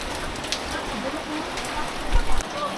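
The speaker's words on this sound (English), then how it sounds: "the wind blowing the coconut trees" Rain and wind in coconut trees in a Philippine province jungle: a steady, loud hiss of rain pattering on surfaces, with a brief low rumble of wind near the end.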